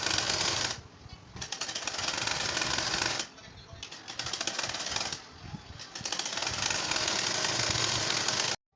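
Sewing machine stitching a satin pants pocket, running loud and close in bursts of several seconds separated by short pauses, with a steady mechanical chatter throughout.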